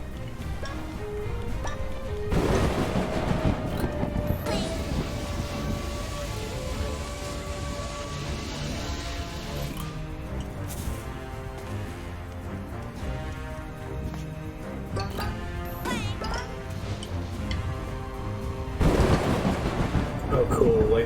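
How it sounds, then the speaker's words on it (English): In the video game A Hat in Time, a thunder and lightning storm brings repeated heavy booms and crackling rumbles that rise and fall throughout, mixed with game music and effects. "Lightning effects now"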